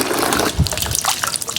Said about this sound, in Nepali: पानी पनि अहिले दामी आयो।